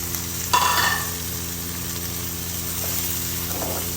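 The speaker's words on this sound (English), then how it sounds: "So when the garlic's nice and golden, we're going to add some onion." Onions sizzle with golden garlic in hot duck fat, a steady close frying hiss with a brief stir and clatter near the start, no talking.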